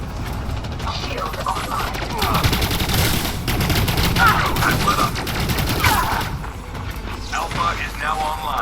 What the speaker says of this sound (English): have a look with the laser SMG now, which is a lot more effective again